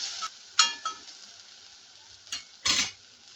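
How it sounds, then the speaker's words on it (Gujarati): Cabbage manchurian is stirred and sautéed in a pan over high flame, with quiet sizzling broken by a few short scraping stirs and clinks, close but fairly soft. "એને પણ આપણે હાઈ ફ્લેમ પર સોતે કરી લઈશું"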